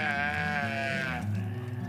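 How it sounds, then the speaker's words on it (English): A Blackbelly sheep gives a long, wavering bleat, loud and close, with another lower sheep call following, outdoors during lambing season. "Just hearing them baa out here"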